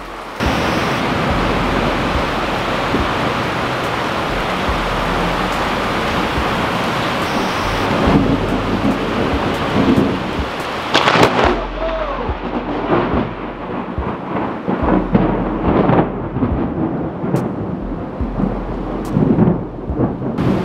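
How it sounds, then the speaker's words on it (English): Steady summer rain hisses loudly in Sydney while thunder rumbles low and drawn out; midway the rain thins a little and a few sharper drips and taps stand out against the wash. "A summer storm, it's always welcome."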